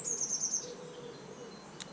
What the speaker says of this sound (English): You've got a bird song all around you.